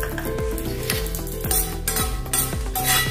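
Red chillies fry in a little ghee in a pan where curry leaves have just been fried for South Indian rasam, a steady, close sizzle with light stirring and utensil clinks.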